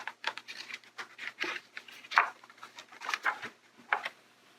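Birds sing in a springtime forest with scattered chirps and calls at varying distances, some bright and close, others faint, with no voices.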